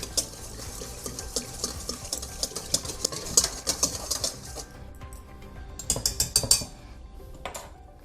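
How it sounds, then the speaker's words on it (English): Juice being whisked into a bowl of Bajan spiced salted fish fritter batter, with quick, steady scraping and clicking strokes that come in bursts, pause briefly, then resume, close and moderately loud with no talking. "Squeeze the juice directly into the rest of the mixture. I'm going to whisk it together."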